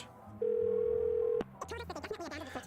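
A steady, single-pitched phone dial tone from an in-game telephone in a video game holds for about a second, then cuts off, followed by a short rising electronic voice or chime.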